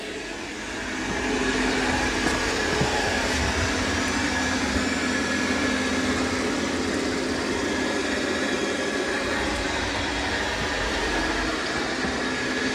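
A MOVA P10 Pro Ultra robot vacuum running in vacuum-only mode with its mop pads raised gives a steady, close motor drone and airy whir that holds evenly after a brief quieter start.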